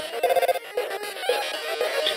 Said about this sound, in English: Is that your phone? You better answer it.